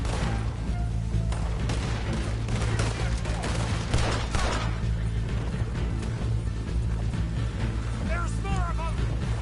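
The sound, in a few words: gunfire in Red Dead Redemption 2 video game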